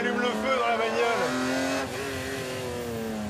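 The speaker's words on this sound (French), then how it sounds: "Quel pied aujourd'hui de pouvoir conduire un 12 cylindres Atmo." A Ferrari with a naturally aspirated twelve-cylinder engine revs hard, its loud harmonic howl climbing and then dropping back to a steady, lower drone.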